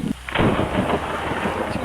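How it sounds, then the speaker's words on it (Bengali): A deep, loud rumble of thunder rolls on for a couple of seconds, heavy and booming, with a steady wash of rain beneath it. "ঠাডা কেউ একটা মারছে, খুবই বড় করে ঠাডা দিয়ে।"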